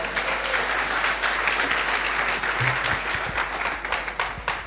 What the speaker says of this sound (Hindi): जानना चाहेंगे तो जोरदार ताली बजाओ